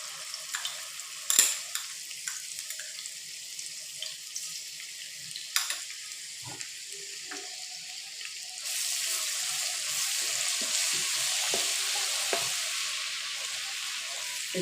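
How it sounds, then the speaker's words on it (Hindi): Ginger garlic paste added to hot cooking oil for a kofta curry, giving a steady hiss of frying after a few clinks and knocks, with the sizzle becoming louder and more constant partway through, and no voices. "इसको थोड़ा सा फ्राई करेंगे।"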